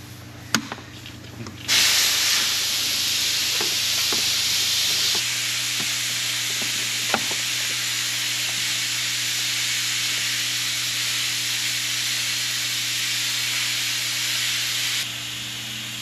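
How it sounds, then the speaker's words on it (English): A steady, loud aerosol hiss of mass airflow sensor cleaner being sprayed onto the sensor of a Dodge Ram 5500 Cummins runs unbroken for about thirteen seconds, with a few light clicks and a low hum underneath. "we'll get some mass airflow sensor cleaner and clean that and the mass airflow sensor while we're here anyway"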